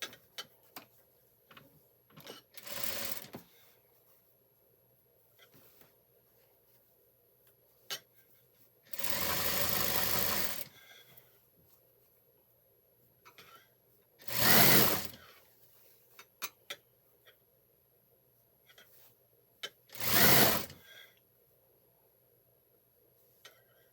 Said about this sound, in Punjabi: ਇਹਦੇ ਤੇ ਸਿਲਾਈ ਲਗਾ ਦੇਣੀ ਹੈ।